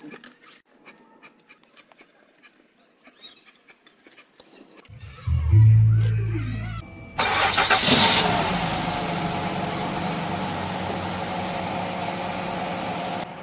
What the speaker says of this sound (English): that's the engine running right there. It's running very smoothly with no problem